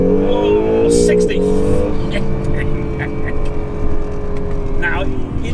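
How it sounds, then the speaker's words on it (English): A Honda NSX with a 3.5 litre V6 hybrid powertrain launches hard under launch control, engine revving loudly with rising harmonic whine through quick upshifts while someone talks excitedly over it. "Left foot on the brake, right foot down, launch, ready, go."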